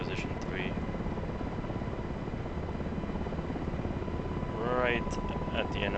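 An MH-60R Seahawk helicopter in the DCS combat flight simulator, its rotor and turbine drone steady and loud throughout with brief chirping tones over it, and a voice speaks near the end.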